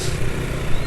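A two-stroke motorcycle engine running steadily on fresh Ultraline 2T oil, a close, loud, even mechanical drone with no gaps across the short stretch.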